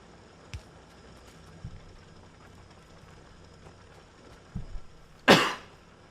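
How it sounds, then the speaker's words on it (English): A single sharp cough bursts out near the end, loud and close, following a few faint thumps over a quiet room background. "That was actually a cough."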